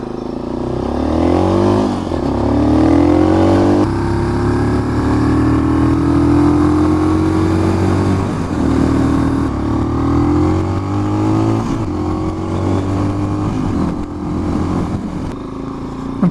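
A 2018 SWM Gran Milano 440 cafe racer motorcycle riding steadily along bumpy rural B roads, its engine droning loud and continuous with gentle rises and falls in revs and wind rush throughout.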